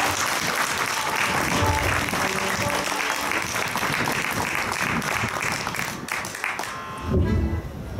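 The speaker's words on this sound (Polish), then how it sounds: "Wielkie brawa dla muzyków" Audience applause for a street musician's band of violin, double bass and percussion players, a steady dense wash of clapping holding for several seconds, with some voices mixed in near the end.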